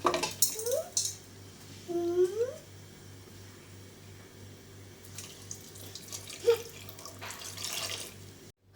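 Water splashes and pours into a pan of jaggery for melting, for a few seconds near the end, after several short cat meows earlier.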